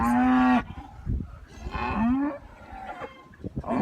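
Cattle moo repeatedly from farm pens at a barn, several loud, drawn-out bellows with short pauses between them and faint background noise.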